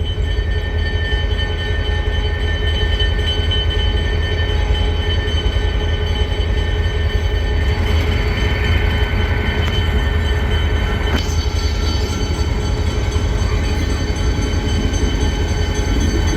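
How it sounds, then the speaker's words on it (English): A diesel locomotive rumbles loudly and steadily nearby at a railway museum's diesel event, a deep continuous engine drone with faint metallic squeals rising midway through. "I ended up recording this locomotive"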